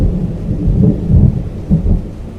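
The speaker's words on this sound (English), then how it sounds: "and thunder." Deep thunder rolls through steady rain, a loud low rumble rising and falling in several swells over a continuous wash of falling water.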